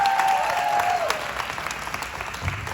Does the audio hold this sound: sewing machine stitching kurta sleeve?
no